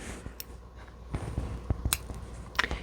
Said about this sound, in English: I pull it through here because I'm going to cut my yarn.